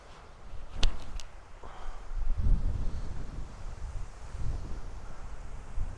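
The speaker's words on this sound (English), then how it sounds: "It is very windy here at Henderson today." Strong wind buffeting a microphone on the Henderson disc golf course, a steady low rumble with gusts swelling and easing, plus a brief sharp knock early on, no voices.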